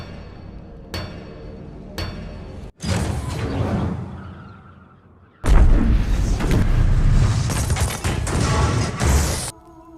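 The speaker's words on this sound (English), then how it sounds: "German soldiers finally dropped a bomb weighing 2 tons on the fort" A two-ton bomb dropped by German soldiers explodes on the Brest Fort, heard as a series of loud, heavy blasts and rumbling crashes in bursts with short gaps between them, and no voices.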